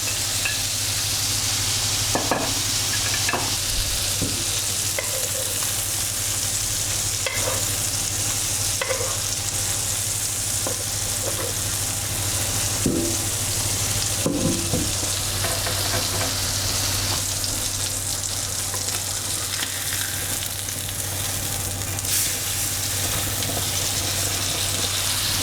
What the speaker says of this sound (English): I'm going to add the steak to the pan.